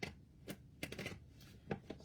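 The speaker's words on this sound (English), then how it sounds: "Just going to shuffle a couple more times." Angel oracle cards being shuffled by hand, giving a few quiet riffling bursts and soft slaps with short pauses between them.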